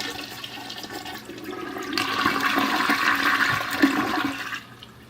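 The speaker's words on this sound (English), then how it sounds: "we're going to go ahead and flush it and see how it goes." A household toilet flushes with a single full cycle of rushing, swirling water that swells to a loud roar, holds steady, then drains away abruptly into quiet.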